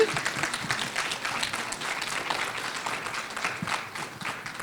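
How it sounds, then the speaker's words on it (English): A crowd at an International Women's Day panel applauding steadily, a dense wash of clapping that holds for several seconds before tapering slightly. "about a round of applause?"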